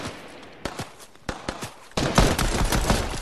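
Gunfire in a video game from pistols and assault rifles: a few separate sharp shots, then a dense, loud, sustained burst of rapid fire, close and without talk.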